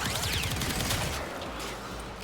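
Rapid gunfire from the video game Warframe, a loud, dense burst of overlapping shots that thins out into a fading rumble after about a second.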